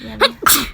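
A single sharp sneeze, close and loud, preceded by a brief intake, in a home kitchen during cooking; a short spoken word comes just before it.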